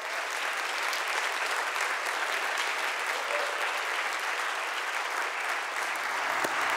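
An audience at a church service applauds to welcome a preacher to the stage, a steady, even wash of clapping from a sizeable crowd that holds for several seconds before tapering slightly at the end.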